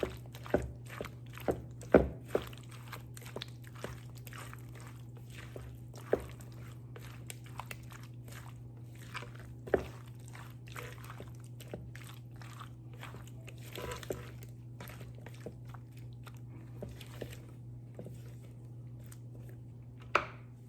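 Creamy cucumber salad with dill and red onion tossed in a bowl, giving soft scattered clinks and wet crunchy rustles over a steady low hum, with no talking.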